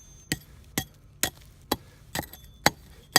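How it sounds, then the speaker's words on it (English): Chiseling small pieces off a backyard pond wall: seven sharp, evenly spaced strikes ring out close and clear over a low background hum, with no talking. "It helps chisel away small pieces."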